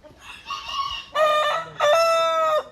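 A rooster for sale, a heavy bird of about 14 months, crows close by, with a short clucking call followed by two strong, drawn-out crowing phrases.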